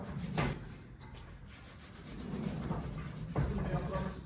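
A detailing clay bar rubbed across the paint of a Toyota Hilux during restoration, giving a close, gritty scraping that comes in long strokes with a couple of sharper bumps.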